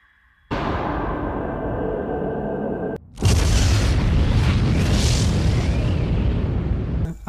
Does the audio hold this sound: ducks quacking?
no